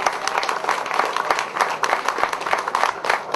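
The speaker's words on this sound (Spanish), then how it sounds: "Un fuerte aplauso para todo el pueblo de Sabana de la Mar y de la provincia" A crowd applauds loudly at a cultural tourism event in Sabana de la Mar, Dominican Republic, with dense, sustained clapping filling the space from start to finish.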